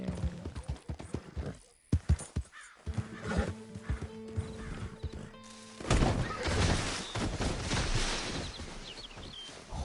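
A horse in a Western video game neighs and whinnies loudly, clearly distressed, with galloping hooves and clattering impacts around it. The calls stand out plainly against the game's background noise.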